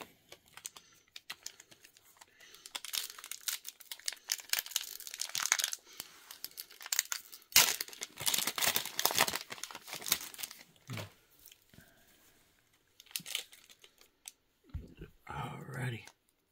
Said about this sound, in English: was that your last pack that you're opening?